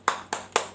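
Three sharp, evenly spaced claps from an elementary school class in Indonesia as they start a rhythmic clapping chant, crisp and fairly close, with no voices.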